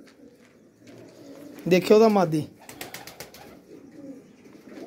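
Pigeons coo softly nearby, with one loud rolling coo in the middle among rooftop pigeon-keeping, while someone talks over part of it.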